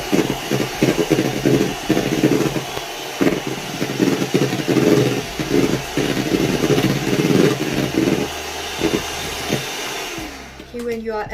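Electric mixer whirring steadily while beating egg whites with sugar and cream of tartar, a continuous close motor drone with fluctuating texture, cutting off near the end.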